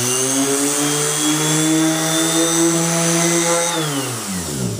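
A power sander running 240 grit sandpaper on a restoration job whines loudly and steadily, its pitch dropping near the end as it slows.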